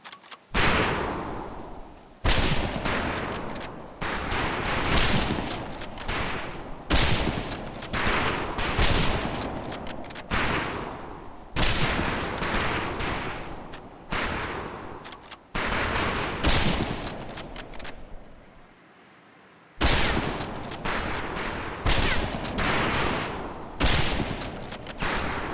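Sustained volleys of rifle fire at targets on a range in the World War II shooter Medal of Honor Pacific Assault, dense overlapping loud cracks continuing for about twenty-five seconds with one brief lull near the end.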